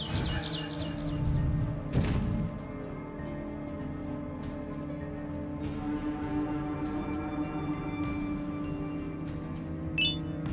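A bird chirping in the Garten of Banban horror game, short tweets over a droning, tonal ambient background.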